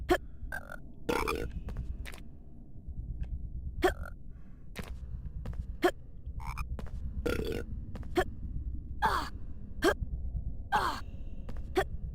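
Frogs croaking in the PS1 game Harry Potter and the Philosopher's Stone, a series of short, burp-like croaks at irregular intervals over a low ambient hum, with no talking.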